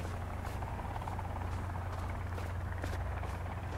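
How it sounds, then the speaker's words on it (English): A helicopter flies in the survival video game Sons of the Forest, its rotors making a steady low drone that holds throughout, with faint rhythmic beating on top and no talking. "There's a helicopter around here."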